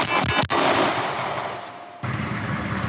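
Handgun gunfire in a comedy sketch: a loud close shot cracks early, followed by a sustained noisy burst of firing that cuts off sharply near the end.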